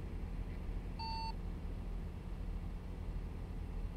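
A single short electronic notification beep sounds in a trucking video game, a clear tone lasting about a third of a second over steady engine and road drone.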